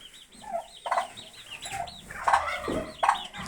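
Young turkey poults peeping with high, rising chirps alongside a few lower clucks, close by and fairly soft.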